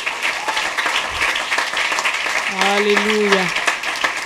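Church congregation applauding during a French worship service, a steady wash of clapping throughout with a singer's sustained voice rising over it near the end.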